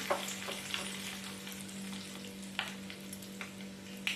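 A tempering of curry leaves and turmeric sizzling in hot oil gives a soft, continuous frying hiss with a few brief crackles, heard up close over a low steady electrical hum, with no voices.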